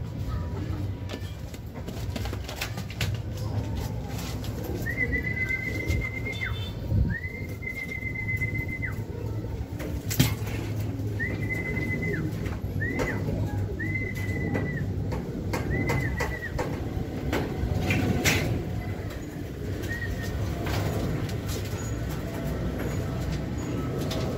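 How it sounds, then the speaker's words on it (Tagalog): Racing pigeons returning to the loft, with repeated soft cooing and brief tonal calls spread across a steady outdoor background of low rumble and faint rustling. "So mga kalapatids"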